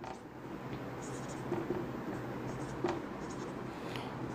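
Marker or chalk strokes on a classroom board during an English grammar lesson, faint scratchy writing sounds in short bursts over steady room hiss, no talking.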